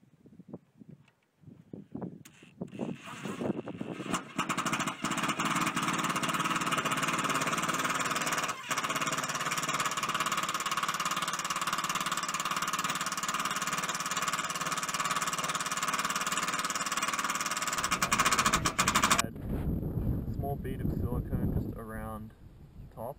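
A power drill fitted with a 5/16 bit drives screws into a shipping container during a solar light install, a loud sustained buzzing whir running steadily for most of the span before cutting off, with brief voice around it.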